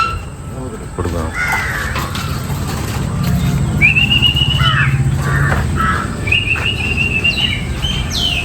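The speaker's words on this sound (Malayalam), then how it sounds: "കാക്കകളൊക്കെ വന്നിരിക്കുന്നുണ്ട്" Crows gather and caw outside Manapadu church on the way to Tiruchendur, loud repeated calls and whistly cries overlapping near and far while a person talks over them.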